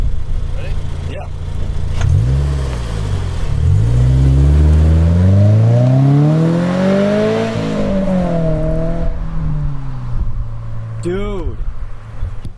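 Aftermarket exhaust on a lowered 2022 Subaru BRZ sports car, revved loudly up and down in a few rising, swelling pulls close by, settling back to a steady idle.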